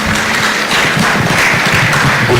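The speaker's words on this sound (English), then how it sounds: "let's give them a very big round of applause" Audience applause at a national youth science exhibition in Kenya, a dense, steady wash of clapping from a crowd that stays loud and continuous throughout, with no talk over it.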